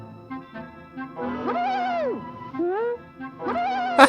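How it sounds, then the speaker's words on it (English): An animated owl in the 1964 Woody Woodpecker Halloween cartoon Spook-A-Nanny gives a series of tonal hoots, short calls building to a long, rising-and-falling cartoonish hoot and then another, clear and close. "Well, you didn't scare the owl."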